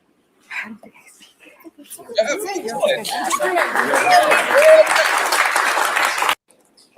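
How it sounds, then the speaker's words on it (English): A crowd breaks into sustained applause, dense clapping that swells and holds for several seconds with scattered cheers and chatter, then cuts off abruptly. "Why are we clapping?"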